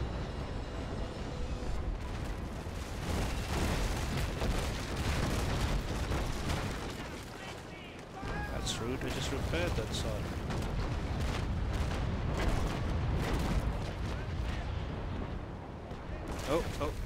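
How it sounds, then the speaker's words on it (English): Cannon fire and a ship blowing up in the naval combat game Naval Action, with a dense, continuous roar of booming blasts and rumbling explosions, heavy low-end throughout and a brief dip midway, while players talk over the battle. "Might as well make it explode."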